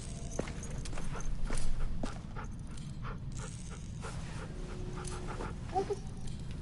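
Dog panting in The Walking Dead: The Final Season video game. Quick, steady breaths come close and fairly quiet, with a few soft footsteps and small thumps around them.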